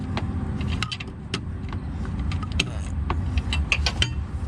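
A 22 mm wrench loosens a bolt near the transmission of a Honda Pilot, giving scattered sharp metallic clicks and ticks over a low garage rumble, close by and without speech.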